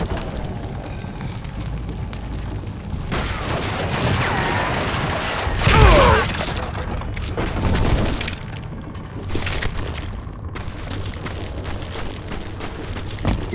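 An explosion in Call of Juarez: Gunslinger, a Western shooter, booms and crashes amid a continuous din of debris and rumble, peaking loudly in the middle before settling into lingering clatter.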